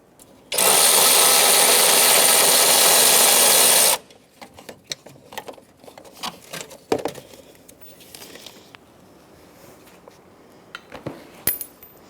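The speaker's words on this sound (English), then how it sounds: "Now I can get my 3/8 drive and spin it out." A 3/8 drive ratchet spins out a transmission mount bolt on a 2007-2010 Chrysler Sebring: a loud, steady whirring buzz for about three seconds, then scattered metallic clinks and tool handling.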